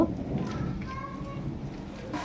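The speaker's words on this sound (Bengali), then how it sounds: "হঠাৎই মেঘ ধরে প্রচণ্ড বৃষ্টি শুরু হয়েছে, মেঘ ডাকছে" Steady, dense monsoon-style heavy rainfall hissing across a broad band, loud and continuous for a couple of seconds, with a low thunder rumble underneath and a faint voice briefly audible.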